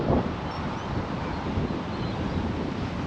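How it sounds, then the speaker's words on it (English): Wind gusting steadily outdoors on a walk through a leafy residential suburb in Perth, a constant broadband rush buffeting the microphone with a stronger gust at the start. "Bit windy out here."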